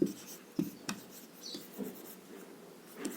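Chalk or marker strokes on a classroom board during a physics lecture, a few scratchy taps and short writing strokes at moderate distance with quiet room tone between them.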